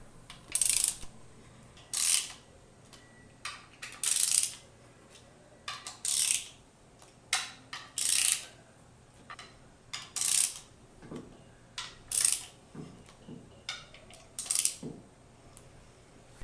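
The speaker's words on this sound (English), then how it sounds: "Tightening the bolts will lower and fit the inner cover into place." A ratchet tightens 10mm bolts on the crankshaft cover of an MWS pump. Quick clicking bursts repeat in an uneven rhythm, about a dozen times over the span, close and fairly crisp, with no voices.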